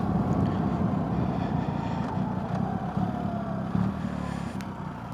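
A boxer motorcycle engine thrums with a steady, low rumble while riding, close and continuous throughout.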